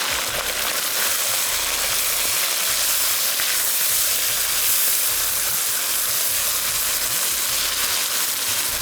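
Chicken with ginger garlic paste frying in a pan gives a loud, steady, close sizzle with crackling hiss that runs without pause for the whole stretch, with no talking.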